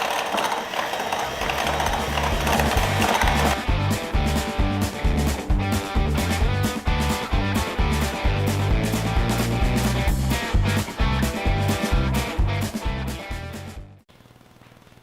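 An electric mixer beats cinnamon cake batter on high with a loud, steady motor whine and a rhythmic pulse, then cuts off abruptly near the end.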